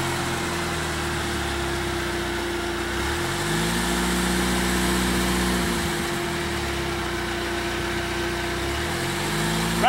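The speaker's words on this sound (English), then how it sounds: "Okay, start it. Bring your hand throttle up to 1500." An off-road vehicle engine used for rock crawling on slickrock idles loudly and steadily, then the hand throttle is raised so the revs climb, drop briefly and rise again, with a constant close engine drone throughout.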